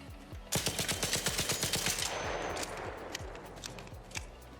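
Rapid automatic gunfire from a weapon fitted with a Compensator mod in the ARC Raiders video game, loud sustained bursts with sharp evenly spaced shots, then a brief pause and a few scattered follow-up shots.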